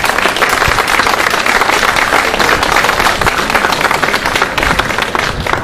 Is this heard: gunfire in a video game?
no